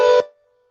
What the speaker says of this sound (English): that's somebody's phone